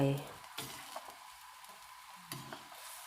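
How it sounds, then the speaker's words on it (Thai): Coconut milk simmers in a pot, reduced down for a khanom jeen curry sauce, producing a soft, continuous bubbling hiss with a few faint clicks and knocks, quiet and close. "เราจะเคี่ยวกะทิ"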